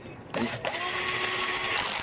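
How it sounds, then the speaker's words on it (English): A cordless drill runs down engine bolts on a Yamaha YZ450F motor: a short stop, then a steady, close, whirring drive that holds for nearly two seconds. "Now to do all the labor for me, I'm going to use this cordless drill."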